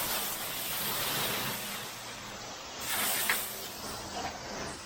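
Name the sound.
AR45 gas roof pump spraying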